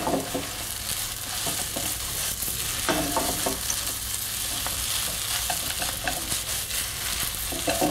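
Fried noodles are stirred and tossed in a hot wok with a sauce of cooking wine, soy sauce and a little vinegar, producing a continuous sizzle broken by rhythmic scraping and clattering strokes, with no talking.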